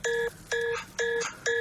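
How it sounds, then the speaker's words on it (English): A phone ringtone plays as four evenly spaced electronic tone bursts, close and clear, each a bright steady beep followed by a short gap. "Nice ringtone, Oliver."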